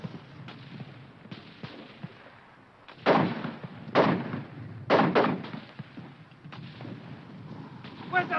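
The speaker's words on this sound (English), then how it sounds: "Keep firing that mortar!" Mortar rounds fire in a 1951 war movie battle scene, several booming reports at irregular intervals over a steady background rumble, with a few fainter distant shots in between.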